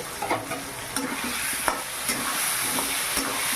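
Duck meat curry stirred in a hot pan, with a spoon scraping and turning the pieces in several short strokes over a steady sizzle, close by and alone.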